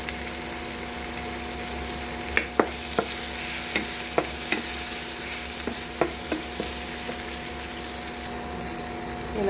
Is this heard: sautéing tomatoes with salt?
yes